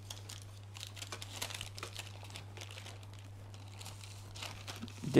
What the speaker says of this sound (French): Je retire mon papier sulfurisé.